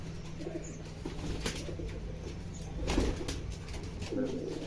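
Rajshahi Giribaz pigeons of the tiger breed give soft, low coos with some rustling nearby, over a steady background hum.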